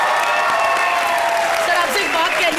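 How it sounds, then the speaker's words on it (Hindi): A studio audience at a comedy show applauds, steady dense clapping that stays loud and close throughout, mixed with some cheering and overlapping voices. "शाहरुख सर के लिए जोरदार ताली।"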